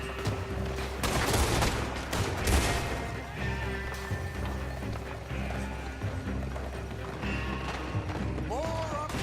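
Shootout in Red Dead Redemption 2, with scattered gunshots and crashes mixed with hoofbeats and running under a steady rumbling background, fairly distant and continuous, with voices now and then.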